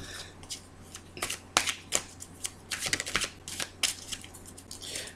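A deck of tarot cards is shuffled and cut close up, with soft, rapid riffling flutters and papery slaps in uneven bursts, fairly quiet and with no talking.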